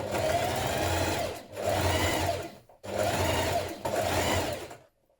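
A sewing machine stitches around shirt cuffs of interfaced and uninterfaced fabric, running loud and steady in two long bursts with a short pause between, then stopping.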